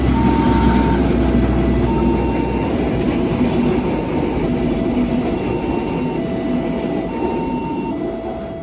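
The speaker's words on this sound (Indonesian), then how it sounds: "Ini ada kereta bandara kalau nggak Pramex yang berangkat dari stasiun Tugu Yogyakarta." A train, an airport rail link or Pramex service, departs Tugu station in Yogyakarta with a steady loud rumble and rolling noise, while repeated high electronic tones beep at regular intervals throughout.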